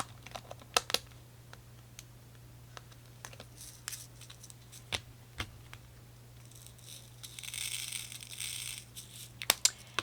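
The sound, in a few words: diamond dotting craft cards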